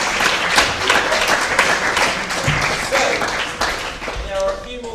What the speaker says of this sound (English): So if we have a round of applause for Anne.